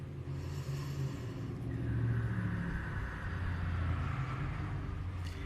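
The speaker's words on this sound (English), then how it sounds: "Sorry if you just heard my neighbor's loud truck." A neighbor's loud truck passes outside as a steady low rumble with a throaty engine note, swelling slightly in the middle and carrying on at moderate volume throughout with no talking.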